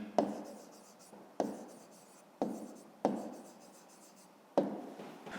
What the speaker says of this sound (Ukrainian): Ну, а тепер записуємо відповідь, пишемо відповідь